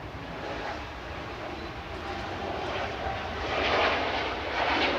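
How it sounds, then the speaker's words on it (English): A KLM Embraer E195-E2 jet departs Manchester Airport for Amsterdam with a continuous rumbling engine roar that swells slightly louder toward the end. "KLM 1030, departing to Amsterdam now."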